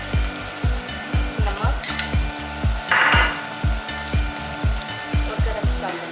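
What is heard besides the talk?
red chili and spices sizzling in frying pan for Sindhi biryani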